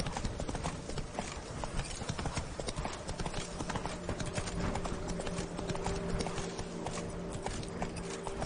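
Roach the horse trotting in a video game, a fast, even clip-clop of hooves repeating steadily throughout, close and prominent over a faint ambient hum.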